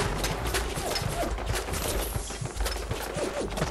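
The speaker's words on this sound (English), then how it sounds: "That's a lot of fucking gunfire." Dense rapid gunfire fills a Fallout 4 battle at a raider factory: overlapping bursts and single shots crackle continuously and loudly throughout, with no pause.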